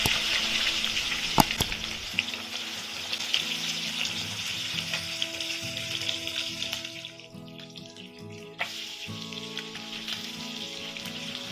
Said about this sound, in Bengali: তেল গরম হয়ে গেলে প্রথমে মাছগুলি ভেজে নেব